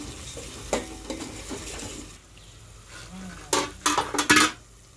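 Curry masala for paneer curry frying in oil on a low flame, with a soft steady sizzle and several louder stirring and scraping clatters of a ladle against the pan, close by.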